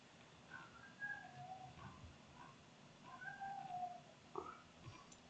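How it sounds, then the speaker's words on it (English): A pet cat behind a closed door lets out a few plaintive meows and cries, faint and muffled, spaced a second or two apart over a quiet room hush. "He's outside the door crying because he wants in here where he's not allowed anyway."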